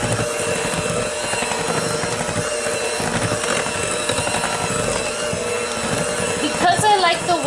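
A stand mixer with a whisk attachment beats chocolate chip cookie dough in a bowl, a loud steady mechanical whirr and rattle that runs unbroken, with a brief clatter near the end.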